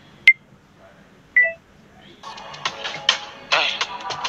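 A phone countdown timer sounds two short, clear electronic beeps close by, followed by a busier patch of clattering, mixed noise.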